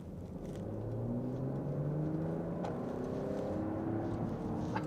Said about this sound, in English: let's go ahead and get the sport screen up on the dash, and immediately the exhaust note comes to life.